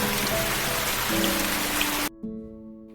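Heavy rain in a film scene pours as a dense, loud, continuous hiss with faint tonal music underneath, then stops abruptly near the end, leaving only quieter music.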